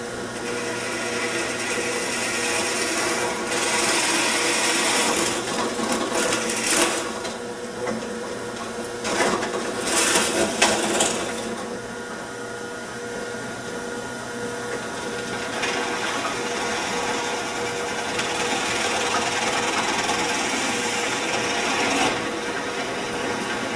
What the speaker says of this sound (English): So off to the drill press.